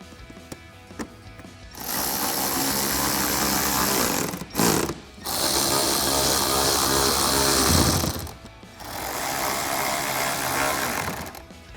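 A power tool with a 7mm socket buzzes in several bursts while tightening fender flare bolts on a 2021-2023 Ford F-150. Three long whirring runs are split by short pauses.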